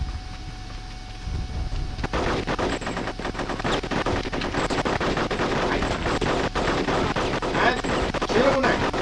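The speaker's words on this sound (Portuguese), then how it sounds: "vou pegar aquelas metralhadorinhas, aquelas que tomam em cada mão" Rapid automatic gunfire from dual submachine guns in the Nintendo 64 shooter Conker's Bad Fur Day multiplayer, sustained bursts crackling throughout over game effects.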